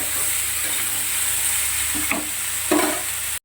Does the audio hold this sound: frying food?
yes